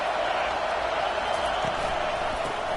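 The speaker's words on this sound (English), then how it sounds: "This crowd bringing the energy and noise early." Stadium crowd noise from a College Football 25 video game, Georgia versus Washington, a steady loud roar of a packed crowd throughout with no clear breaks.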